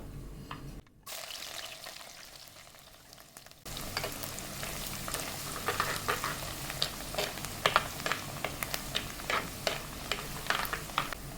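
Garlic sizzles and crackles in hot oil in a pan for lemon pickle, a steady close hiss with sharp pops and occasional stirring scrapes after a brief quiet gap at the start.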